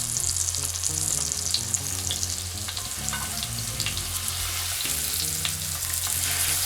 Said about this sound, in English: When the oil is hot, put the breast, the flesh side on the pan. Cook for 5 minutes.